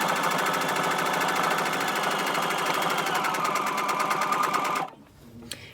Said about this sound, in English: I will just be sewing about, what is it, maybe a centimetre from the edge all the way round, just so that the inner bag is secure.